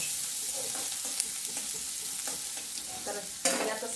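Chopped chilies, onion and cumin frying in a pan at home, a steady close sizzle broken by spatula scrapes and stirring clatters, with a louder burst of sizzling near the end.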